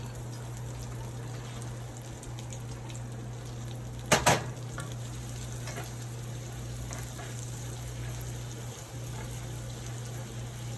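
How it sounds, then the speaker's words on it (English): Chopped garlic sizzling in melted butter in a pan, a steady soft crackle and hiss throughout with a brief louder burst of spatter partway through, no talking. "I added a tablespoon of butter. Time to add our chopped garlic."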